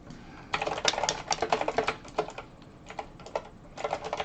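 Quick bursts of typing on a computer keyboard, close and clear, with short pauses between the flurries of key clicks as a game name is entered.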